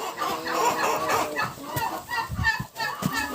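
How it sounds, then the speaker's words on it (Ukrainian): An aggressive brooding turkey hen is lifted off her eggs and gives loud, agitated clucks and squawks up close, over continuous background rustling and handling noise. "Індичка агресивна, треба її дуже обережно знімати."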